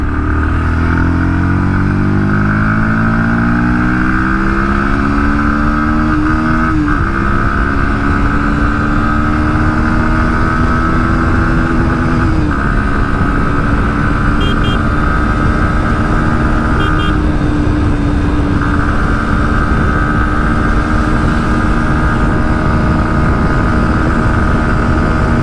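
A 2024 Bajaj Pulsar NS 160 motorcycle engine revs up through the gears, pitch climbing then dropping at each shift, loud and close over steady road rush.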